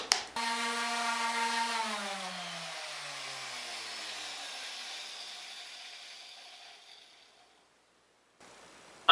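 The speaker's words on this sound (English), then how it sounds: "I'm sanding all the inside surfaces of the organizer right now" A power sander working the inside surfaces of a wooden desktop organizer whirs steadily and close, then slowly spins down into silence before a sharp click at the end.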